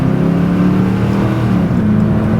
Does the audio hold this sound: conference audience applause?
no